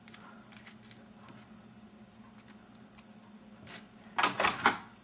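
Ribbon snipped with scissors while making a fabric rose for a corsage, short crisp snips near at hand followed by a louder, denser burst of cutting and rustling at the end.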